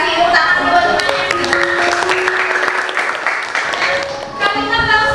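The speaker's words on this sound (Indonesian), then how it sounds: "Tepuk tangan buat temannya" Schoolchildren in a classroom clap for a classmate after a news text presentation, a scattered round of hand claps mixed with children's voices and sustained tones, fading briefly near the end before picking up again.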